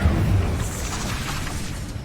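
Fire spell cast in Hogwarts Legacy, a deep booming burst up front that rolls into a steady crackling roar, loud and close with no talk.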